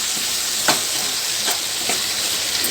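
Ivy gourd (dondakaya) frying in a pan, a steady sizzle running throughout with a few sharper stirring scrapes spaced about a second apart, close and fairly loud, no voices.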